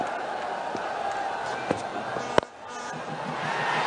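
Cricket stadium crowd at a BPL match with Sylhet batting, a loud sustained roar after a wicket falls, with sharp claps and shouts rising out of the din and commentary running over it.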